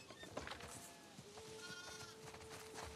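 Sheep bleat repeatedly in The Last of Us Part II, several overlapping calls at moderate distance over a soft ambient game background, with no talking.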